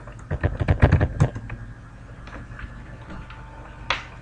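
A password goes in on a computer keyboard for a Windows server login, a quick burst of close, crisp key clicks in the first second, then a few scattered taps and one final louder keystroke after a pause.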